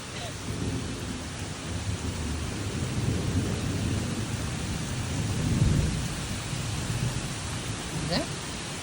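A thunderstorm with heavy rain and gusty winds in Grafton pours down as a steady broadband hiss, with a low rumble of thunder swelling near the middle and a brief sharp crack near the end.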